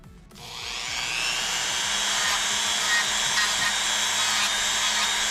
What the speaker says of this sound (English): we're smoothing down these edges because they're very sharp edges, so we're smoothing them down